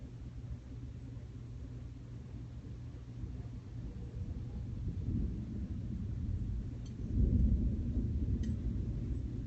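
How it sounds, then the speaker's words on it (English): Distant thunder rolls as a low, steady rumble during a storm, swelling and growing louder toward the end, with no voices over it. "How apropos, there's some thunder in the background."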